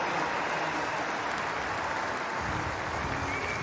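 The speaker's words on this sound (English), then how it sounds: "the crowd here in Birmingham supporting our athletes as they leave the track" Steady, dense applause from a stadium crowd in Birmingham at a Commonwealth Games women's 100m heat, a continuous loud wash of clapping with no break.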